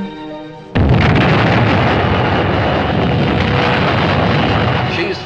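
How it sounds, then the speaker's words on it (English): A dynamite blast in Arctic sea ice at Resolute Bay, set to free a ship: a sudden loud boom breaks out after a quiet moment and rolls on as a heavy, sustained roar. "the crew lowers the dynamite into place"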